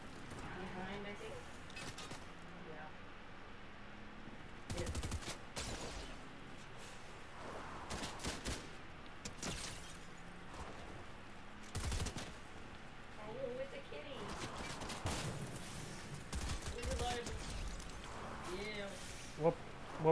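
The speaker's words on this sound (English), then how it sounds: "Where are we getting shot at from?" Video game gunfire rattles out in dense bursts and scattered single shots around players looting shotguns and snipers; sharp cracks come near and far over steady background noise, with people talking throughout.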